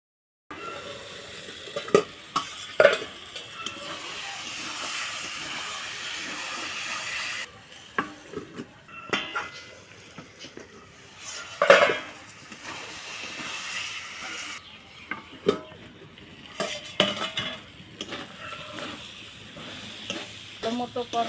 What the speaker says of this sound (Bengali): ঢাকা দিয়ে দিয়ে কষাবো মাংসটা